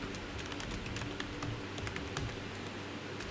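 Code being typed on a computer keyboard: a steady, rapid stream of close, crisp key clicks with uneven rhythm, continuing without pause and with no voices.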